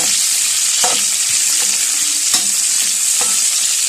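Shallots stir-fried in a pan for bamboo shoots with egg, a loud, close, continuous hiss of hot oil with several distinct stirring scrapes at roughly regular intervals.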